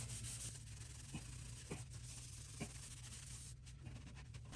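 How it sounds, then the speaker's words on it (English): Scrubbing a toilet flange clean, a faint, close rhythmic rubbing and scraping with a few sharper strokes, continuous and quiet with no talk. "I'm going to give it more of a scrub just to get it, get it clean"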